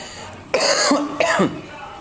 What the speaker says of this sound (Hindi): खांसी हो रही है मुझे